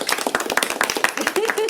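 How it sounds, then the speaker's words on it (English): A small audience at a Halloween campfire gathering claps in quick, irregular bursts under a voice that talks and cheers, close and fairly loud. "Everybody make a applause for T's Mac"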